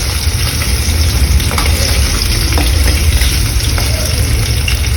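Fish frying in a pan, a steady loud sizzle and spatter with faint scraping as the pieces are turned, no voices over it.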